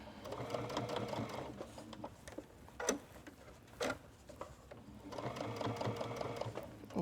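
A sewing machine runs close by in short bursts as it stitches backwards around the thumb hole of workout wear. Its rapid rhythmic needle chatter pauses for a couple of sharp clicks between runs.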